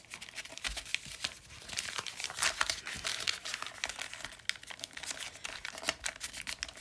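A plastic beverage bag being folded by hand, a steady run of close crinkling and rustling with sharp crackles throughout, no talking.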